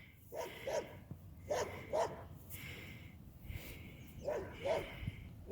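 A Cane Corso puppy barks in three paired bursts, two quick barks each time, spaced a second or two apart and fairly close, with only low background hum between them.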